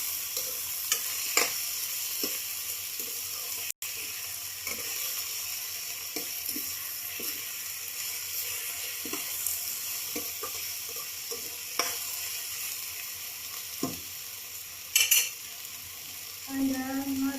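Green apple pieces stirred with sugar and ginger powder in a pan, a soft steady sizzle under repeated light scraping and tapping of a spatula against the pan, a brief clatter near the end, no talk.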